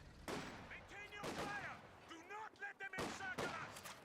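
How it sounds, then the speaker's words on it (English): A half-track in the video game Company of Heroes 2 fires in bursts. Three loud clusters of rapid gunfire play over a murky battlefield background with scattered voice-like sounds. "A half-track firing away."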